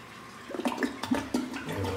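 A toilet flushes nearby, a rushing gurgle of water that swells and drains over a couple of seconds, with no talking.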